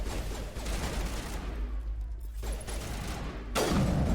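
Sniper rifle fire in the video game Mass Effect Legendary Edition, played on Insanity difficulty: a dense burst of sharp shots sits over a steady rumble, with another loud shot near the end.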